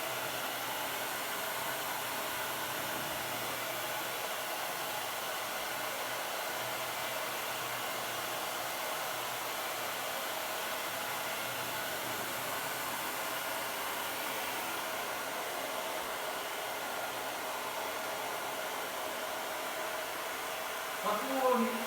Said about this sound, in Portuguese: Só que o secador também tem que estar no quente, viu?